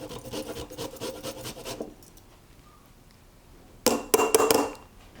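Citrus peel scraped across a grater while a beet slaw is prepared, giving close rasping strokes in two bursts, a longer run of rubbing followed by a quieter pause and then a short louder scrape.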